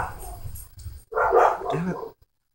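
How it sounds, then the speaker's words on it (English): A dog barks a few times nearby in a short, loud burst, then stops, over a low background murmur. "Yeah, your dog's barking."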